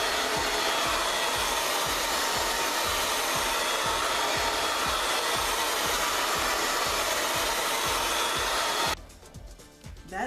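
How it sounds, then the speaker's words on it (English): A blow dryer running loud and steady close by while drying a synthetic wig, a dense continuous whoosh that cuts off abruptly near the end, with no voices. "Take my blow dryer."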